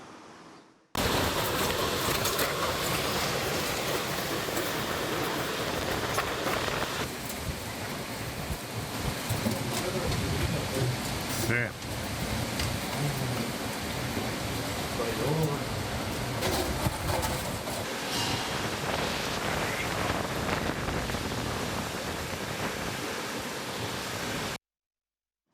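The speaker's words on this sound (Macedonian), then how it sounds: "Така, Борче, ова е сликата накратко од главниот град по невремето што го зафати Скопје" A storm of heavy rain and wind over Skopje, an unbroken loud wash of downpour and gusts that carries on for about twenty-five seconds with a few brief louder bursts and no voices.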